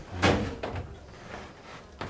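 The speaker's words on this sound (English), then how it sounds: "I guess those are some massive doors to open." A heavy, massive wooden door in an abandoned traditional mansion in the Spanish mountains, pushed open with a strong creaking thump at first, then scraping and knocking as it swings, close by with no talking.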